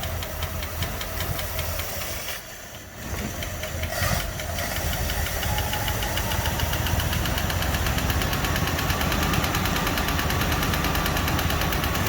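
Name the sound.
Packard car engine running while carburetor is adjusted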